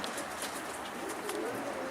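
A Mardin pigeon coos softly on a rooftop, low and faint beneath a bright wash of outdoor background noise.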